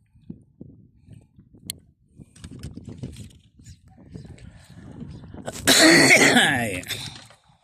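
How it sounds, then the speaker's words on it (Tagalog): A single loud, rough cough near the end follows a stretch of soft clicking and quiet background chatter. "May ubo."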